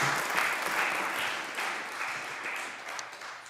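Public gallery applause in the Scottish Parliament chamber, a steady wash of many hands clapping at moderate level throughout, with no voices over it.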